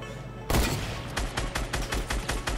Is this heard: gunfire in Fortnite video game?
yes